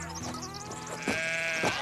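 Sheep bleating while being herded, with two or three wavering bleats rising over a low steady background, fairly close and not under talk.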